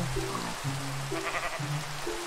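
Sheep in the Minecraft video game bleating in a quick series of short wavering calls, up close over a steady hiss like rain.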